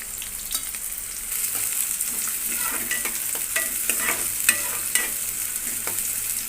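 Chopped onion and green chillies fry in hot oil in a kadai, a soft, steady sizzle with scattered crackles and occasional spoon scrapes, close but moderate in level.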